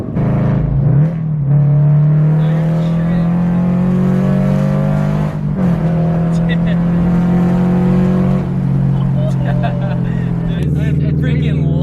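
A Subaru FRS with unequal-length headers and a loud catless exhaust idles and revs in a steady, burbling rumble up close, with several throttle blips. Someone talks briefly over the engine.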